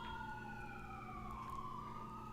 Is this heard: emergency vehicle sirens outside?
yes